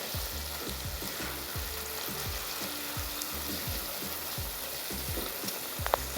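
Shredded cabbage sizzles and fries in an oily pan as it is sautéed for a Bengali-style cabbage dish, a constant hiss overlaid by regular scraping strokes of a spatula stirring it.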